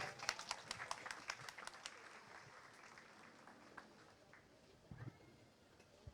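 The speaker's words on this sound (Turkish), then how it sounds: "Sayın Dursun Mirza huzurlarınızı alkışlarınızla rica ediyorum" Scattered audience applause at the opening of a book fair in Bandırma, thin and somewhat distant, tapering off within a few seconds and leaving faint room murmur.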